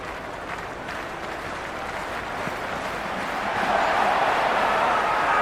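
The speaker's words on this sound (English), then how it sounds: "It's evident and ever so audible that the crowd is at near bursting point at today's play." Stadium crowd applauding and cheering in the cricket video game Cricket 26, an IPL match between Lucknow Super Giants and Gujarat Titans; a dense, steady roar of claps that swells louder toward the end.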